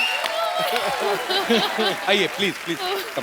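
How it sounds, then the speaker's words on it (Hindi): Studio audience at The Kapil Sharma Show comedy taping claps in a patter of scattered applause, partly buried under a voice talking over it. "हो जाए हमारे दर्शकों के लिए थोड़ा सा जोरदार तालियां पहले हो जाए."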